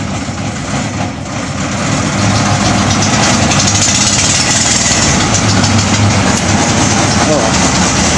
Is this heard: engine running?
yes